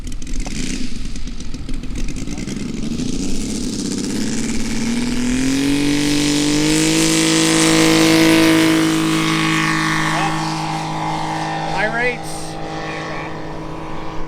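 A radio-controlled Seagull Model 87-inch F4U Corsair with a radial engine taking off: the engine drone climbs steadily in pitch as it throttles up, then holds a loud, even buzzing tone before dipping slightly toward the end.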